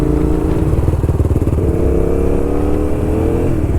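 A motorcycle engine running close by, a loud low throbbing idle whose pulsing firing rhythm shifts and rises slightly in pitch as the clutch is eased out, steady throughout with no voices.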